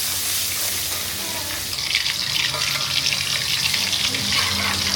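Food drops into hot oil for frying at home, and a bright, crackling sizzle starts up partway through. It stays loud and continuous over a low background rumble.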